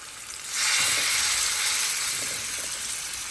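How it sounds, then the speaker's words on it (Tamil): Chicken pieces hit hot oil in a kadai and break into a loud, steady sizzle that holds evenly and close for several seconds, with no talking. "இப்போ நம்ம இதை வந்து நம்ம வானலில் வந்து எண்ணெய் விட்டு அதை அப்படியே வந்து ஃப்ரை பண்ண வேண்டியது தான்"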